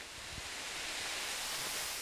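Bakyeon waterfall in Yeongdong, South Korea, a constant broadband roar of falling water that stays even and close throughout, with no voices over it.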